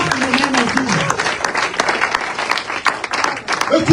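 Congregation clapping together in a church service, a dense steady wash of hands under a voice speaking and chanting over it throughout.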